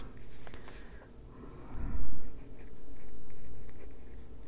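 A colored pencil from the AquaBlend range scratches across Alabaster paper in short strokes, a soft close-up scrape with a louder rub near the middle.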